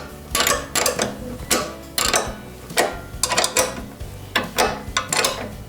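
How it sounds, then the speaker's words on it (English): Lock nuts on a handlebar being tightened with a 13mm spanner, giving repeated metallic ratcheting clicks in bursts of about one per second, close up and fairly loud, with no talk. "we can tighten up the lock nuts with a 13mm spanner"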